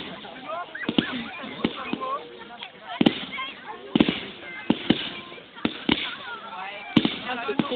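Bastille Day fireworks burst in the night sky as a series of sharp, scattered bangs and crackles at irregular intervals, with people talking throughout.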